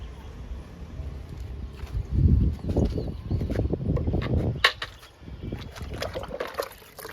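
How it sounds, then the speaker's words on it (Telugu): Water poured onto a cherry plant in a home garden, a swelling splash and trickle into soil that rises midway, eases, then resumes, heard close with no talking. "చెర్రీ మొక్క కూడా ఇస్తున్నాను వాటర్ని"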